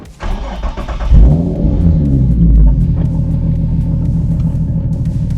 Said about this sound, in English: Here's how it sounds when you just start the car.